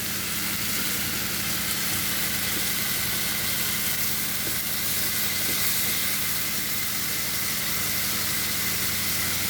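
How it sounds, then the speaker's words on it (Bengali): Pointed gourd frying in mustard oil in a pan for a hilsa fish curry, a steady close sizzle and hiss running without pause, with no talking. "এই যে সরিষার তেল দিয়ে রান্না করতেছি।"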